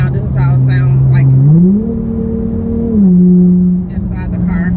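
Cabin view of a V6 Dodge Charger in sport mode on the highway: a steady low exhaust hum climbs in pitch as the car accelerates, holds, then settles back down. A voice talks over the drone at the start and end.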